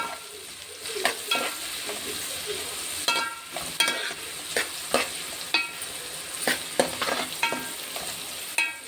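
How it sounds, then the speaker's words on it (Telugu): Onions sizzle steadily in a pan for an Andhra-style fish curry while a spoon stirs them, giving repeated scraping taps over the constant close frying hiss. "కలుపుదాం కొద్దిగా."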